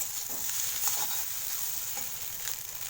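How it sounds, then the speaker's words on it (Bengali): Pasta frying in a pan for Maggi-seasoned pasta, a steady, close hiss of sizzling oil with faint stirring scrapes running throughout, no voices. "শেষের দিকে বেশ কিছুক্ষণ ধরে ফ্রাই করছি"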